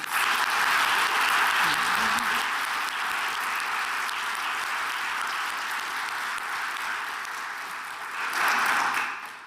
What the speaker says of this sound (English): give a little round of applause to my colleagues